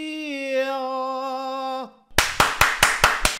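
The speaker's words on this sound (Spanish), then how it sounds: "Por eso siempre aplaudo al empezar los vídeos." One person claps hands six times in a steady, close, loud rhythm, following a sustained tonal electronic sound that cuts off just before.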